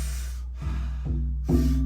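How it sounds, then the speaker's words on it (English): Three forceful rhythmic Wim Hof style breaths, drawn in and let out through the mouth or nose as part of a roughly forty-breath cycle, loud and close with a steady low room hum underneath and no talking. "taking about 40 powerful breaths into the body through the mouth or the nose"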